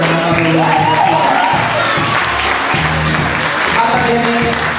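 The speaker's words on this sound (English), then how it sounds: "Let's give Albert Ferrer another round of applause" Audience applause at a graduation ceremony, continuous clapping from a crowd with a few raised voices, tonal sounds and chatter mixed in.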